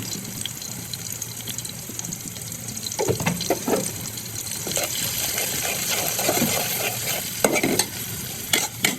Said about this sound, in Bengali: এটা এখন মশলাটাকে সুন্দর করে কষিয়ে দেব।